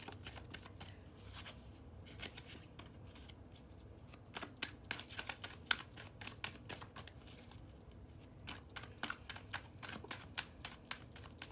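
Tarot cards being shuffled in quick riffling bursts and soft slaps, close and fairly quiet, repeating irregularly with no talking.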